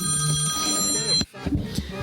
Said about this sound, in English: oh man, the phone's going.